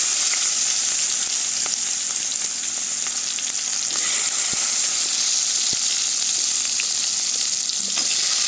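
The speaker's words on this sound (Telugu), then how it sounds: "ఉల్లిపాయ ముక్కలు వేస్తున్నానండి" Onion pieces frying in hot oil for a Telugu egg and dried fish iguru with drumstick, a loud, continuous sizzling hiss with a few faint utensil ticks.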